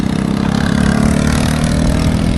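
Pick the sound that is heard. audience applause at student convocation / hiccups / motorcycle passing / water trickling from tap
motorcycle passing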